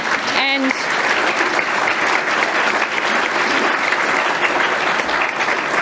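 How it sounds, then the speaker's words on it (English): Audience applause at a National Press Club address by Finance Minister Katy Gallagher on gender equality, a dense steady roar of many hands clapping that runs loud and unbroken throughout, with a brief tonal blip near the start. "I think we should give them a clap."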